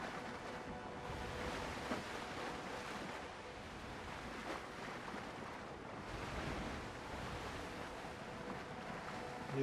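Ocean waves in the open-world pirate survival game Windrose, a steady broadband wash of surf with wind rushing over it, rolling at an even level throughout and heard alone.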